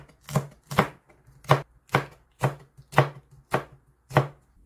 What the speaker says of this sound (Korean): 고추를 썰어줍니다